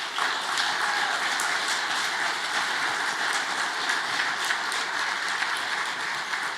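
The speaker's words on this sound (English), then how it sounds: "we applaud you" Steady applause fills an awards ceremony hall as a trucking company honoree is recognized, a dense, even wash of clapping that holds at constant loudness throughout, with no voices over it.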